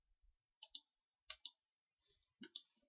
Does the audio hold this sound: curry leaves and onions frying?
no